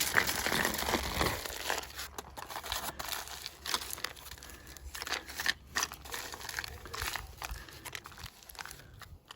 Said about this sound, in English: We're going to use 3 sheets of aluminum foil for this, so I usually roll it, then I'll turn the bottle this way and roll it up.